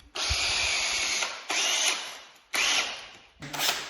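A power drill bores small guide holes for door handle screws during a door renovation in an old Italian palazzo, sounding as three sustained whining bursts and a short fourth, close and fairly loud, with no talk.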